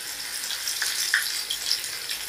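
Bread pakoras with grated potato filling frying in hot oil, a soft fizzing bubble with a couple of brighter pops, moderately quiet and alone.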